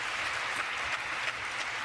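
Crowd applause fills a table tennis arena during a men's singles match, a steady broadband wash of clapping with no breaks, moderately loud and close throughout.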